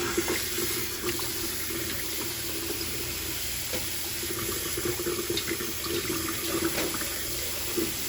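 Water runs from a kitchen tap into a sink as it fills for rinsing crab legs, a steady close hiss and splash with faint clinks and no talking.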